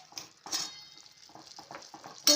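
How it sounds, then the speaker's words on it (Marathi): Ghee stirred into a hot sugar syrup in a pan, soft scraping and light clinks of a spoon in several short strokes, close and quiet, ending with a sharper metallic knock. "यामध्ये आपल्याला थोडंसं तूप टाकायचं आहे."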